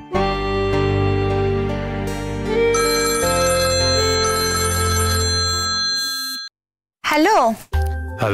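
A phone ringtone plays for an incoming call, a loud melodic electronic tune of sustained tones lasting about six seconds before cutting off, followed by a short burst of voice.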